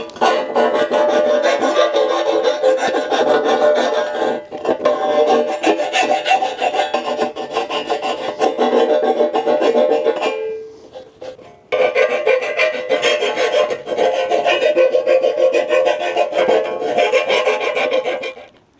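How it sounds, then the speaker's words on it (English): A hand file rasps back and forth across the cut edges of metal while a Blue Ox tow bar setup is fitted for flat-towing a Jeep. The strokes are long, steady and close, with one brief pause midway. "I'm gonna file it down a little bit, smooth it out a little bit"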